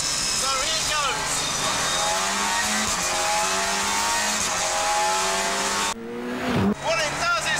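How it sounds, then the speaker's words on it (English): Ford Puma rally car from 1998 with its anti-lag system switched on, engine revving hard and ferociously with crackling bursts, tire squeal and a sharp pause before revving again, loud and close with someone talking over it. "They've told me I can turn the anti-lag switch on, and I'm told that makes it very ferocious."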